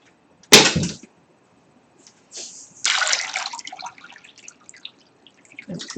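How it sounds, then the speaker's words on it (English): Water added to red, gritty pottery clay while a bowl is being worked: a sharp splash followed after a pause by a longer, wetter burst of sloshing, close by with no talking. "I need water in here."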